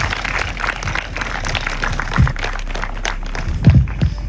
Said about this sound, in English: let's give a big round of applause for